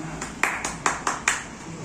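Audience clapping at a poetry gathering, a few scattered distinct claps at a moderate pace over a low room murmur and faint voices.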